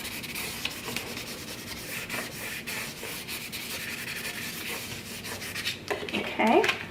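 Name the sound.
burnishing Cricut vinyl on the back of the mat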